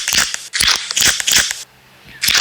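Nido milk cubes crunching in a Roblox tower game, a burst of sharp crisp bites repeating about four times in quick succession, loud and close, with a short pause before one last crunch.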